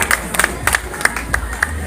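An audience at an Independence Day celebration gives a guest a burst of applause, with steady crowd clapping and murmur throughout the short stretch.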